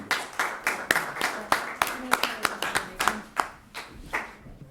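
Steady clapping from a small group at a Daly City city council meeting, a run of sharp, irregular hand claps over roughly five seconds that thins out toward the end, with faint room murmur beneath.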